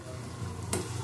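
Oil frying in a pan for an egg and pea ghugni, a steady low sizzle with a brief bright burst of spatter near the end, close and alone.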